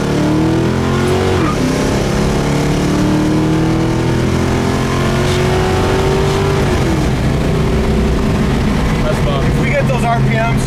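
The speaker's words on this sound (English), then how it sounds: "Oh man, this car pulls" A 1971 Chevy Nova's engine revs hard under acceleration, its rising drone climbing steadily in pitch, loud and close from inside the car, with occupants talking over the engine noise.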